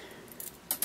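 Keys on a handmade paracord lanyard jangle in a few quiet, brief metallic bursts, the clearest two near the end, close by with no talk.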